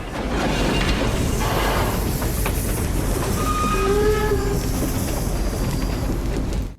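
An abandoned train from the post-apocalyptic game Steel Arc rolls along with loud, continuous rail rumble and clatter, while faint whistle-like tones rise and fade midway before the sound cuts off.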